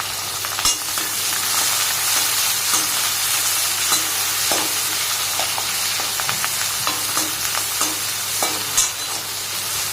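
Onions, bay leaf and curry leaves frying lightly in a pan for semiya biryani, with a steady bright sizzle and scattered stirring scrapes and clicks across the whole stretch, close and without voices.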